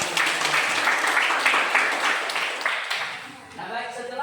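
Students in a classroom clap together, a fairly loud wash of applause that thins out toward the end, with voices chattering underneath.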